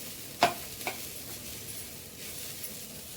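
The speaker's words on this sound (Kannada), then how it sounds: "ಸೊ ಈ ರೀತಿ ಎಲ್ಲ ಫ್ರೈ ಮಾಡ್ಕೊಳ್ಳೋಣ." Ingredients for curd sambar (majjige huli) made with Mangalore cucumber fry quietly in a pan, giving a soft, faint sizzle, with a couple of sharp utensil clicks near the start.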